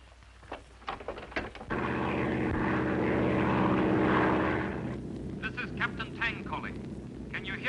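The engine of an Air Cathay propeller airliner drones loud and steady in a 1952 radio drama, swelling after a few clicks and easing slightly toward the end.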